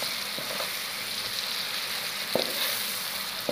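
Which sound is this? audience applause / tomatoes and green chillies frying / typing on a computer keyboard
tomatoes and green chillies frying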